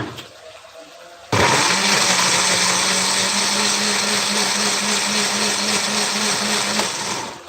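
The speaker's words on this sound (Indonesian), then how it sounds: "Ini saya mau blend dulu ya, sebentar teman-teman." An electric kitchen blender switches on abruptly after a quiet moment and runs loud and steady with a constant motor whine until the end.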